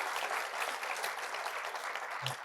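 Steady, dense applause from an audience at a conversation event with Andrew Young, continuous and fairly distant with no break.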